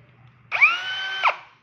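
Brushless 18V Bluetooth cordless drill, a three-function model without hammer, spins up sharply, holds a steady high whine for under a second close to the microphone, then winds down abruptly into quiet.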